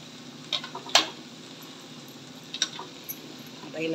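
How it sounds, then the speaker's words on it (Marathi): A utensil stirs vegetable through chili tempering in a pan, with a few scattered clinks and scrapes against the metal over a low background hum and no speech. "आता हिला छानपैकी मिक्स करायचं."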